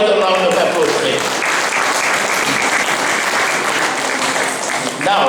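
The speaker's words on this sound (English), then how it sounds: "Shall we give them another round of applause, please?" A crowd claps loudly and continuously for young performers' parents and teachers, a thick even roar of applause that fades slightly at the end, with a voice briefly audible as it starts.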